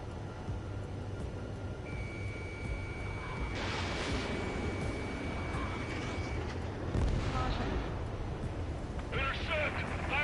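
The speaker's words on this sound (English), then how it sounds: "Intercept! Fire the AA!" Anti-aircraft fire in a combat flight video game, a rumbling barrage of booms and crackling blasts layered with a steady tone, continuous and moderately loud, with a voice talking over part of it.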